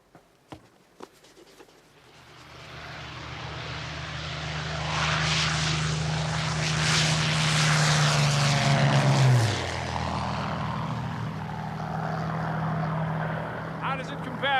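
A propeller fighter aircraft flying overhead, its engine drone rising to a loud, sustained roar, then dropping in pitch as it passes and fades, with people talking around it.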